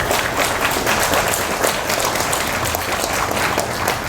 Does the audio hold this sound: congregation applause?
yes